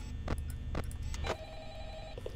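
Telephone ringing in the Five Nights at Freddy's video game, a sustained tone coming in partway through after a few sharp clicks and knocks, over low background hum.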